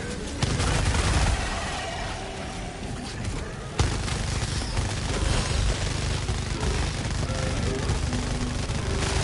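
Minigun fire in the shooter game Helldivers 2, a dense, loud, sustained stream of rapid shots that breaks off briefly and resumes, with explosions mixed in.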